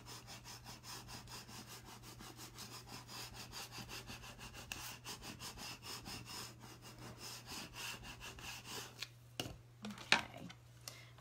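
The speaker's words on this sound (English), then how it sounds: "I've got my little burnishing tool." A small burnishing tool is rubbed back and forth over vinyl on a framed chalkboard sign, making soft, rapid scraping strokes in a steady rhythm, close and quiet, with a constant low hum underneath.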